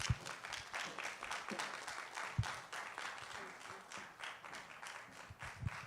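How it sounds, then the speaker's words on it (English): Steady audience applause fills a conference hall at a talent management talk, dense overlapping claps at moderate distance with a voice faintly present beneath. "Please give her another resounding round of applause."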